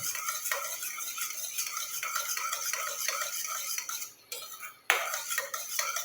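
A blend of three oils including mustard oil is stirred in a metal vessel, giving a continuous scraping and clinking of a spoon against the pot, close and steady, with a short pause near the end before stirring resumes.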